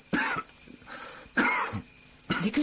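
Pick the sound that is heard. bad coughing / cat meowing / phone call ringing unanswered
bad coughing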